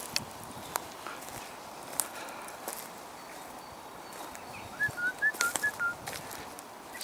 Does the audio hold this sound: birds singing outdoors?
yes